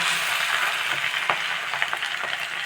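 Tamarind and coriander thokku sautés in a pan, a loud continuous frying hiss with light stirring scrapes over nearly three seconds, no talk.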